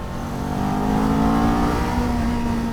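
A 2023 Kawasaki Z400 motorcycle engine accelerates on the road, a loud, close, steadily climbing drone with rising pitch, heard alone without talk.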